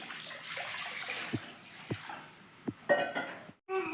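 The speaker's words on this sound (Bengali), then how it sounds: "চাউমিন সিদ্ধর জন্য কড়াইতে দিয়ে দিচ্ছি জল।" Water poured into a wok to boil chowmein noodles gives a running, splashing pour broken by a few clinks and knocks of metal cookware, then a brief pause before the pour resumes.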